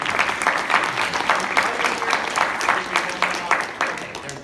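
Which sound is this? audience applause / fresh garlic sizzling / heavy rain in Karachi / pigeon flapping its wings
audience applause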